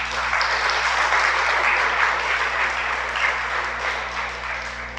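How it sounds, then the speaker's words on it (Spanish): A congregation at a Shabbat service gives sustained applause, many hands clapping evenly over a low steady hum, gradually easing slightly in loudness. "Denle un aplauso, pues."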